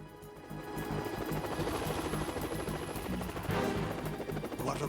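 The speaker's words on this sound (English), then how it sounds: "But this time, the real Snake broke cover, from a Kasatka chopper." The Kasatka helicopter in Metal Gear Solid 2 thunders with dense, continuous rotor chop and engine roar, loud and steady throughout, with a brief swell near the end.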